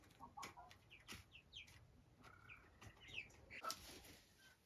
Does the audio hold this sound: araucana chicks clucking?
yes